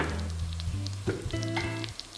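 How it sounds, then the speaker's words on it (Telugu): Onions fry with ginger garlic paste for a Rayalaseema mutton curry, a continuous close sizzle with tonal hum and brief stirring knocks, no voices. "ఆనియన్ ఇలా ఫ్రై అయిన తర్వాత ఇందాక 1 టేబుల్ స్పూన్ యూజ్ చేశాను అల్లం వెల్లుల్లి పేస్ట్."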